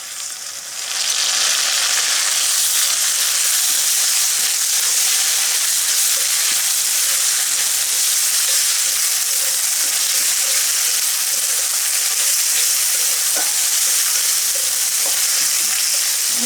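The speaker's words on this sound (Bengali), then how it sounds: "আমি সব মশলাগুলো খুব ভালো করে ভেজে নেব।" Ginger-garlic paste and cumin-coriander paste frying with softened onions for a chicken and bottle gourd curry: a loud, steady, close hiss of sizzling oil throughout, with faint occasional stirring taps, no speech.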